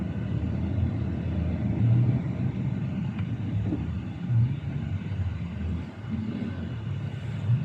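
Traffic on a city street in Pasig City, heard as a low, steady rumble of passing cars with gentle swells as vehicles go by. The sound is moderately loud and there is no talk over it.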